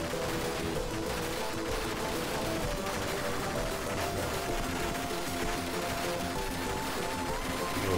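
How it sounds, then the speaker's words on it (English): Rapid, unbroken gunfire from a held-down trigger in the side-scrolling shooter Ultracore, a canceled Genesis game revived for Xbox Series X, blasting steadily and loudly for the whole stretch amid dense game effects and music. "you hold down the shoot button and you're always shooting in that direction"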